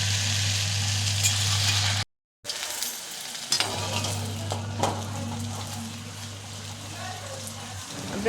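Homemade kurkure snacks dropped into very hot oil in a kadhai, a steady close sizzle and bubbling frying noise running throughout with a brief dropout, stirring clatter, and no talking.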